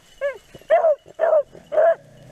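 Beagle hunting dogs bark four times in quick succession, loud and close, with a short yelp first and three fuller barks after it, outdoors on a rabbit hunt.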